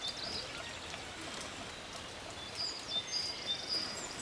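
Steady rain falls over the countryside of the Cévennes, a soft continuous hiss of drops with a few faint bird calls chirping in the distance.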